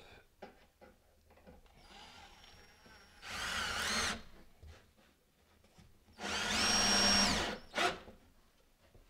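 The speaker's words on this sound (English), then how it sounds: "If we drill a small hole here, small pilot hole." A power drill screws into a kitchen base cabinet's mounting strip in two loud, whining bursts of a second or so each, with quieter handling knocks and clicks between them.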